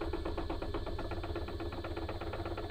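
A wood lathe turns a pecan bowl at about 500 RPM on its lowest belt setting, giving a steady, close mechanical hum with a fast regular pulsing throb and slight vibration throughout.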